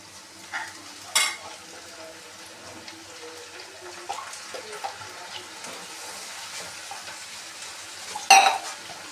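Golden-brown onions frying in a pan as tomato is added for palak paneer, a quiet low sizzle with occasional clinks and scrapes of utensils, one sharper clatter near the end.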